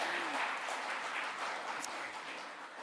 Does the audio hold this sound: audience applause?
yes